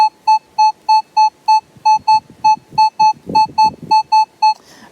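A Minelab X-Terra Elite metal detector sounds a steady string of about fifteen evenly spaced, clean tonal target beeps, clear and close, with faint handling rustle beneath.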